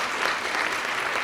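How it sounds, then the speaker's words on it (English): Brief burst of steady applause from an audience at a Latino Leaders Network honoring event, dense clapping filling the moment with no voices on top. "Round of applause."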